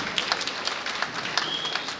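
Audience at a big band Valentine ball at the Palais Royale applauding, a steady wash of many hands clapping throughout with a few sharper individual claps standing out.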